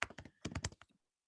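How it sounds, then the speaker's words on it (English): A quick burst of keystrokes on a computer keyboard while writing code in VS Code: a dozen or so crisp, close taps in an uneven rhythm, then silence. "I start typing, it gives me the suggestion"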